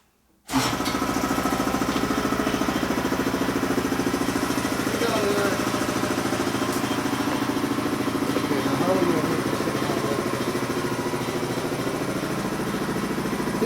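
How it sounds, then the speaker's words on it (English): An air compressor in a motorcycle workshop kicks on and runs with a loud, steady mechanical drone that holds unchanged for the rest of the clip. "It doesn't make air. The air compressor does."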